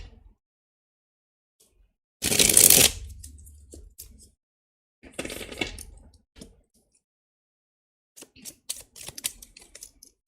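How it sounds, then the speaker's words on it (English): A loud fluttering riffle shuffle of tarot cards, then a shorter second riffle and light clicks as the deck is squared up, close and otherwise quiet. "I'm actually going to give it one more riffle shuffle."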